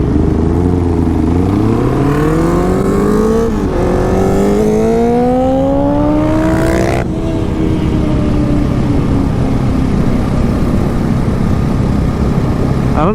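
A Mitsubishi Evo races a 450 motorcycle on a street in Mt Druitt. Engines rev loudly and continuously, with pitches climbing through the gears, then cut off sharply and settle into a steady roar, with no talking.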